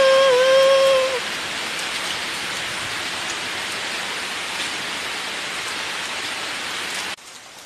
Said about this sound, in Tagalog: Lakas ng ulan guys, oh.